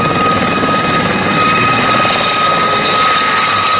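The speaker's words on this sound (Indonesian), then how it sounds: "Lihat, ada lagi dua helikopter teman-teman." A helicopter in the Metal Slug video game drones steadily and loudly with a continuous rotor thrum and whine, alone and unbroken throughout.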